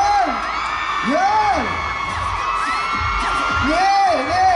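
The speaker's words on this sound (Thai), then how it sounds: "เนี่ยเสียงกรี๊ดอยู่ไหนเราเสียงกรี๊ดเป็นกำลังใจให้ JB หน่อย" Crowd at a Siam Center event for singer JAY B, whooping and cheering in rising and falling screams that swell repeatedly, loud and close, with an announcer's voice over them.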